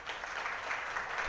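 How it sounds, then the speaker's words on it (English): An audience applauds at a live tech talk on AI, a steady dense wash of clapping throughout, moderately distant and even in level. "Can we have a round of applause"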